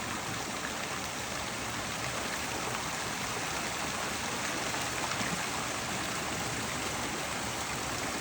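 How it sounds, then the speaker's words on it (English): Swimming pool bubblers run steadily, a constant splashing rush of water like a small fountain or stream that stays even and fairly loud throughout with no pauses. "we're going to turn the bubblers off"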